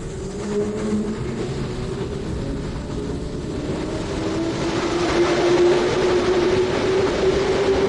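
A Moscow metro train rumbles through Kievskaya station, a steady roar with a sustained tonal whine that swells gradually louder as it passes close by, no voices present.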